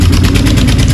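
A tractor engine idles close by at a brick-and-rubble unloading site near Sonipat, giving off a loud, steady low rumble with a fast, even chugging pulse and no revving.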